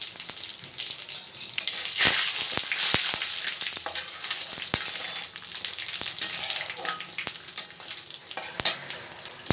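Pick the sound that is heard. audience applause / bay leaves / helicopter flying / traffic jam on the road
bay leaves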